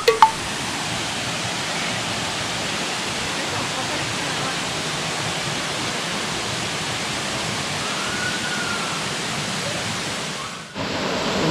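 Erawan waterfall in Thailand pours in a steady, dense broadband rush, close and fairly loud, continuous for about ten seconds before a brief dip near the end.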